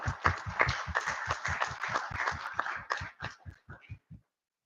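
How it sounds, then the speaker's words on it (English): About twenty sharp, evenly spaced claps ring out at a council roundtable meeting, rhythmic and fairly quiet, slowing and thinning toward the end before stopping. "So give yourselves a round of applause."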